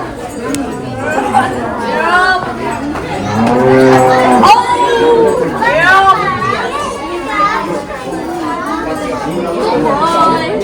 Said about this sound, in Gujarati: ગાયને ફીડિંગ કરવા માટે આવ્યા છે